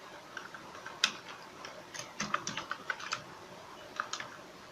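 Rapid bursts of clicky keystrokes on a computer keyboard while HTML code is typed, irregular runs of taps close by in a quiet room.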